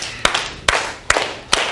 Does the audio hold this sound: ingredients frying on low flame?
no